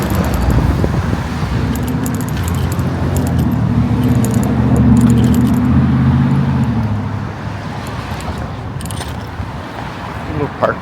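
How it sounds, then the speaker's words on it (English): Steady road traffic rumbles throughout as cars pass close by on a street in the Ritson Road area, with a brief metallic jingle near the end. "Gosh, a lot of traffic."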